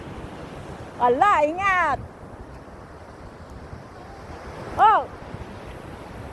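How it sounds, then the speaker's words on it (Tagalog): Sea waves wash in a continuous rushing surge along an empty beach, mixed with wind buffeting the microphone, while a voice calls out briefly over them. "Okay, dito ako sa dagat ulit."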